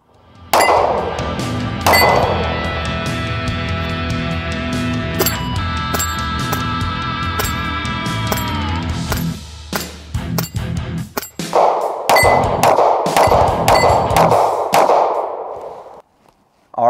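A Smith & Wesson M&P Shield Plus pistol fires a string of sharp shots at a range, each followed by a bright ringing clang from steel targets, rapid then spaced, loud and close, ending with a burst of quicker shots.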